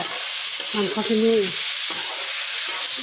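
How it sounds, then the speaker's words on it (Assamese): Chicken sizzles steadily in a hot pan for an Assamese dish with mustard greens, with a constant bright hiss and scraping stirring strokes over it, and brief tonal clatter midway. "আগতে মাংসখিনি ভালদৰে ভাজি লওঁ"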